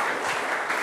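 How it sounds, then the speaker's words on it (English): A brief wash of steady audience applause after a talk at a web developers' meetup, dense and moderately loud, with no speech over it. "Give it one more round of applause, Mr. Jeremy."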